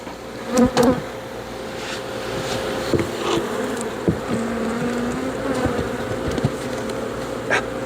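Honeybees buzz close around an open horizontal hive during an inspection, a steady droning swarm with individual bees whining past near the listener and a few light knocks.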